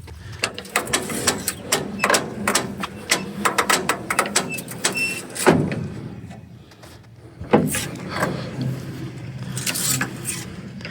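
The door of a Gehl 100 feed grinder being worked back and forth, giving a run of close, irregular creaks, squeaks and metallic clunks with a few brief pauses.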